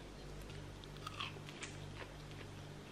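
Raw green peas being bitten and chewed give off a few faint, crisp crunches over a low, quiet hum, with no talking.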